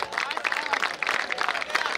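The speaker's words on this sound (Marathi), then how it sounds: "टाळ्या कमी करू देऊ नका." Crowd applause at a kabaddi tournament prize distribution, dense clapping from many hands, steady and fairly close, with voices faintly mixed in.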